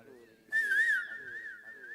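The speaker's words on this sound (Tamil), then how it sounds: "மறுபடியும் விசிலடி" A person whistles a short, bright, wavering phrase during a Tamil stage comedy skit, loud and close for about half a second and then trailing off, with voices talking around it.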